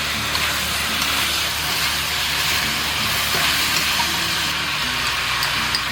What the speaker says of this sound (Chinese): 先下入这个鸡肉哈，把它的水分煸干。